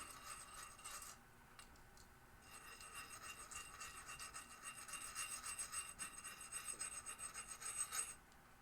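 Metal file rasping a small bevel onto a sharp edge of a 1991 Williams Hurricane pinball trough or drop target, a steady scraping rhythm that builds to quicker, louder strokes near the end, close and alone.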